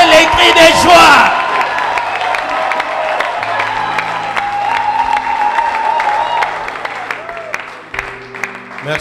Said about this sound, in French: Applaudissez, lancez les cris de joie.